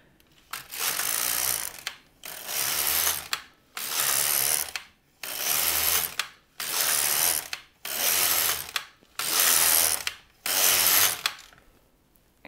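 LK-150 knitting machine carriage pushed back and forth across the needle bed: seven evenly spaced, rattling mechanical sweeps about two seconds each, separated by short pauses, loud and close.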